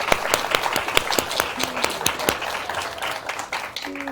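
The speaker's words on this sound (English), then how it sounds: "Big round of applause." Audience applause at a speaker-series event, scattered individual claps building into moderate clapping that thins out toward the end.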